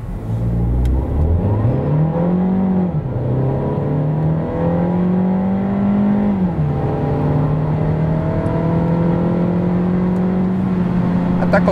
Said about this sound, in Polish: Przy przyspieszaniu z gazem w podłodze układ napędowy z testówki tak rozpędzał samochód od 0 do setki.